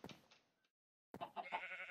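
Minecraft sheep bleat in two bursts: a short bleat, then silence, then a louder, wavering bleat that fills the end.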